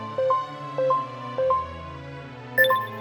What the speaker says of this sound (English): and the sound of a pinch continues to sound like this. It's a bit loud,